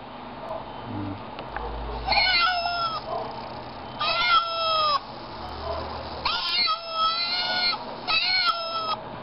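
Cat meows played back through a WT588D sound module: four electronic, slightly tinny meows in a slow series over a low background rumble.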